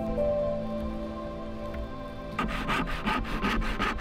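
A quiet hum gives way to rhythmic back-and-forth strokes of a hand saw cutting through salvaged wooden slats, about a dozen rasping passes, close by.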